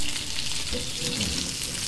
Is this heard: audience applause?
no